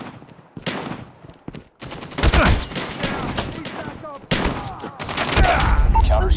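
Shotgun fire in a fast online shooter match erupts in heavy repeated blasts amid explosions and battle noise, loud and dense throughout, with players talking over the gunfire.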